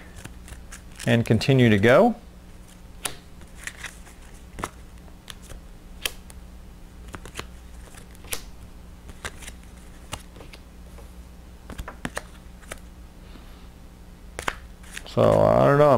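Mystic Vale game cards are reshuffled by hand, a short riffle burst near the start and another at the end, with a person talking and faint card handling ticks in between.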